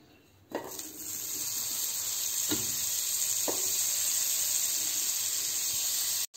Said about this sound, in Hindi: बटर हमारा मेल्ट हो रहा है